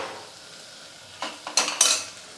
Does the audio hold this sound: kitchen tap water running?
no